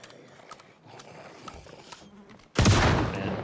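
Shotgun fire in the zombie survival game Project Zomboid: quiet scattered clicks and thuds give way to a sudden loud blast that carries on in a roaring burst to the end.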